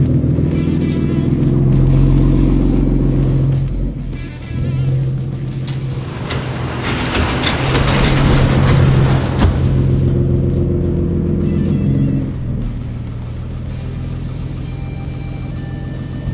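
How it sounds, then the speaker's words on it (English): A built 1300HP BMW M340i with a B58 engine, big turbo and built motor, on its first drive: a loud, close, deep engine rumble that climbs under acceleration, swells to a roar midway, then settles back to a heavy drone. "We're ready to take it on its first drive."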